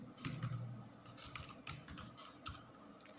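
Quiet, steady keystrokes on a computer keyboard as HTML code is typed, a close run of soft clicks with small irregular gaps.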